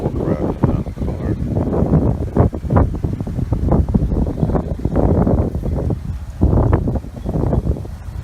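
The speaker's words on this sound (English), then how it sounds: "It's a little bit windy here" Strong wind buffets the microphone outdoors beside a 2017 Subaru Legacy in loud, low rumbling gusts, continuous and uneven, with a voice partly buried underneath.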